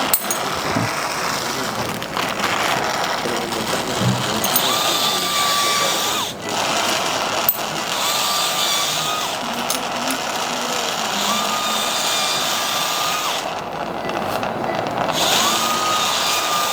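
A high-pitched surgical drill whines steadily and continuously, close by, with brief pauses and small metallic clicks, during lumbar spine decompression surgery.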